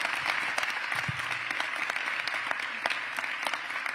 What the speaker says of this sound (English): Let's have one huge round of applause for all of our panelists here this afternoon.